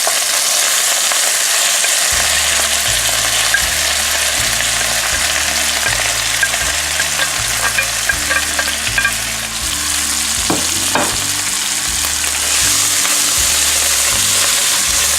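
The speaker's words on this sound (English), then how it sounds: "I'll take the onions. I'm going to put those into the pan." Onions frying in a pan for spelt flatbread walnut tacos, a loud, dense, continuous sizzle with occasional stirring scrapes, heard close and alone without speech.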